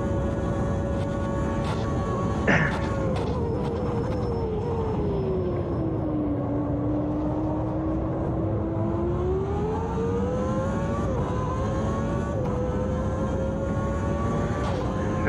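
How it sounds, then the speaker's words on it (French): A Williams Renault Formula car with a V10 engine in the Automobilista 2 racing game at Imola, a loud steady high-pitched engine howl that dips and rises with the revs through corners, with a brief sharp shift blip. "Son V10 typique."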